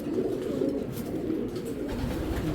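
Foreign racing pigeons coo in a steady, soft, murmuring run of low throaty calls close by, with no one speaking.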